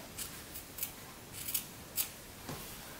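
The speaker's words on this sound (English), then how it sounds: "Now you're going to trim the corners" Scissors trim the corners of a sewn fabric bookmark with a series of faint, crisp snips, about six quick cuts spaced unevenly and close by.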